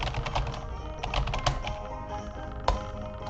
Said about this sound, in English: Oh, can you hear the keyboard?